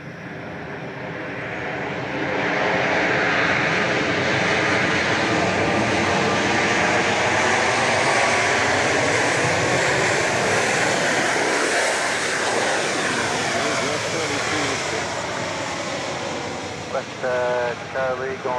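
Southwest Airlines Boeing 737 MAX 8 jet at Dallas Love Field, its engines swelling into a loud, sustained roar that holds steady for most of the clip with a shifting whine, then eases slightly at the end.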